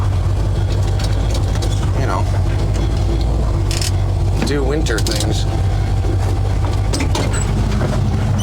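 A truck engine idles steadily while warming up, a low continuous rumble running under nearby conversation throughout, with a few brief clinks and handling noises.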